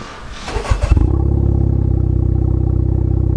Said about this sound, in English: here you go from the cold start